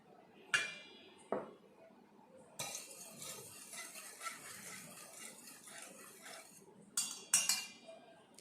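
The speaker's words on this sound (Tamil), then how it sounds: "அடுத்த இதில் வெனிலா எசன்ஸை விட்டு அதையும் நல்லா பீட் பண்ணிக்கோங்க" Eggs being beaten with vanilla essence in a bowl for brownie batter: close, sharp clinks of a utensil against the bowl open and close a stretch of quick, busy stirring and scraping, with no voices.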